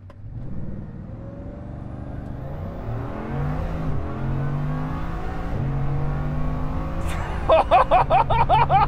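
A Bugatti Chiron Super Sport accelerating hard, its engine note climbing steadily through rising gears from a low rumble to a loud, sustained roar heard from inside the car, with a brief rattling, pulsing burst near the end.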